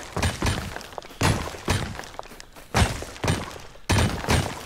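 Explosions shake a base during a raid in the video game Rust: a string of about seven sharp, crashing blasts at irregular intervals, mid-distance and fairly loud, each with a brief shattering tail.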